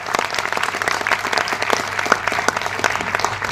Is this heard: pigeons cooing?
no